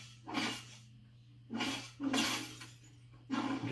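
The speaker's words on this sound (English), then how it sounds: "That's what the pickaxe sounds like." Marcus Fenix and Kait Diaz set pickaxe in Fortnite, four harsh, crashing impact swings with glassy shattering bursts at an uneven rhythm, fairly loud over a low steady hum.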